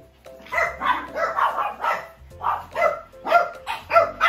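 Several dogs indoors bark and yip in a rapid, excited, fairly loud series of overlapping barks, with a few whimpering tones mixed in.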